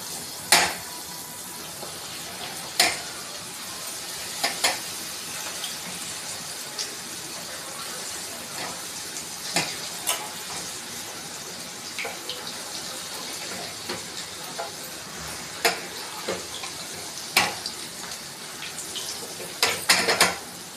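Onions and leftover dosa batter frying in a pan give a steady broadband sizzle, with occasional sharp clicks and pops scattered throughout. There is no talking.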